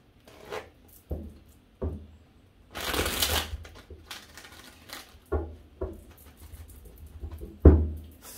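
Tarot cards being shuffled by hand in a series of quick riffles and bursts, fairly close and moderately loud, with pauses between shuffles and a few soft words spoken in between.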